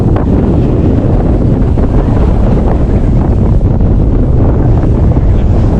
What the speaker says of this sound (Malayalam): കാറ്റുണ്ട് കാറ്റിൻ്റെ മൂളൊക്കെ നന്നായിട്ടുണ്ടാവും